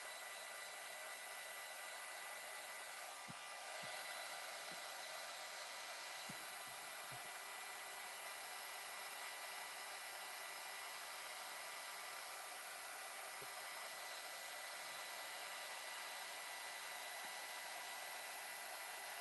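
A hair dryer blows steadily on a mixed media journal page, a constant close whooshing whir that runs throughout with a few faint knocks underneath.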